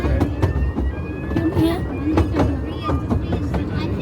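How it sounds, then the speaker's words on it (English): The Longleat miniature railway train runs with a steady rhythm of clacks and rattles. Voices talk over the train noise. "So yeah, there's your little train."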